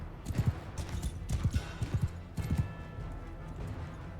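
Horse hooves clip-clop in a Mount & Blade II Bannerlord battle, coming in short quick bursts of galloping beats over a low background rumble and then easing into quieter movement.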